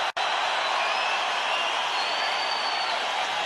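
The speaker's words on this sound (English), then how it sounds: "And of course the crowd roar him on." A boxing arena crowd roars steadily for Usyk during his heavyweight fight against Dubois, a dense continuous wall of cheering over the whole stretch.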